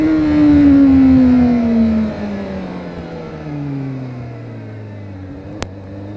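A Honda Hornet 600 motorcycle engine revs high then winds down, the pitch sliding steadily lower as it settles into a lower, steady hum.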